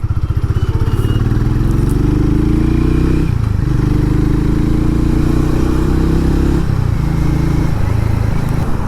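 A Hero Mavrick 440 motorcycle cruises on a highway, its engine a loud, steady low drone with rising pitch sweeps as it accelerates and shifts, and wind rush throughout; no one talks.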